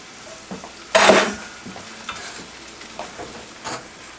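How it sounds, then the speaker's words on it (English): Lump white crab meat tipped into a hot pan and sautéing, with a sudden burst of loud sizzling followed by quieter frying and a few light utensil scrapes, close by. "Now I'm adding 1 pound of lump white crab meat."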